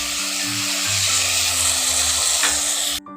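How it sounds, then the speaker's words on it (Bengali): Ridge gourd stir-fried with spices in a pan gives a continuous close sizzle and scraping hiss, with a low hum underneath, running steadily for about three seconds before cutting off. "এই উপকরণগুলো দিয়ে একটু ঝিঙ্গাটাকে ভালো করে আবার কষে নিচ্ছি।"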